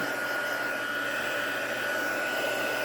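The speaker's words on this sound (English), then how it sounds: "So now I'm going to get my heat tool. I'll turn that on and heat it up." Heat embossing tool warming up for melting embossing powder on a card, a loud steady close blowing whir with a constant tone and no talking.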